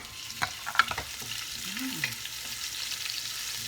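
Pork frying in a pan for kalderetang pork with onions just added, a continuous sizzle with a few stirring knocks and scrapes near the start, close-up with no voices.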